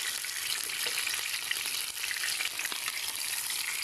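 A whole chicken fries in a pan with soft drink, giving a loud, steady, close sizzle and crackle with occasional stirring scrapes and no voices.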